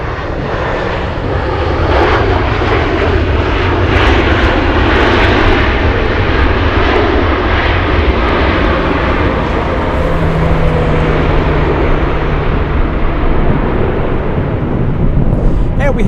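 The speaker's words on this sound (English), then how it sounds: "Whoa, getting wobbly here, fighting the winds." On a gusty day at Anchorage, an airplane wobbling through strong winds on approach fills the air with a loud, sustained engine roar that surges and holds for many seconds, then trails off slightly.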